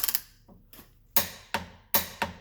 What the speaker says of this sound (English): get your torque wrench and torque away, my friends